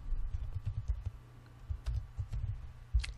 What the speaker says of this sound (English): And I'm going to type in a title.